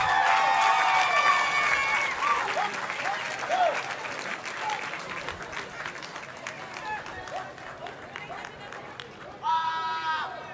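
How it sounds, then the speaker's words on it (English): Spectators at a Botswana Defence Force recruit pass out parade applaud loudly, with cheers and whistles rising over dense clapping that fades and then swells again near the end. "Let's give these recruits another rousing round of applause"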